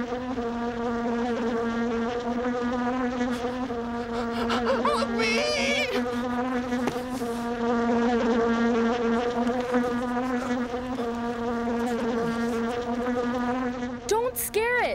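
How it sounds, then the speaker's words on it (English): A bee buzzes steadily and close for a long stretch. Its drone wavers in pitch as it hovers, with brief higher whines and small rustles over the top. "You've got to keep still so the bee will go away."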